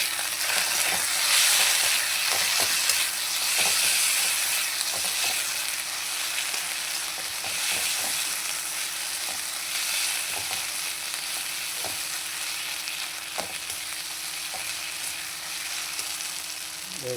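Kashmiri chili powder frying in hot oil in a pan while being stirred, a steady close sizzle with scraping stir strokes throughout, cooking for a fish and cauliflower curry.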